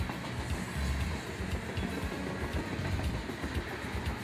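Freight train locomotives climbing the 2.52% Tehachapi grade toward Summit Switch: a steady, dense rumble of engines and rolling wagons, continuous and fairly close, with no talking.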